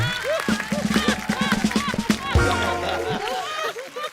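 Studio audience applause on The Kapil Sharma Show, a Hindi comedy talk show: a bright, crackling spread of clapping with laughter and cheering, and people talking over it.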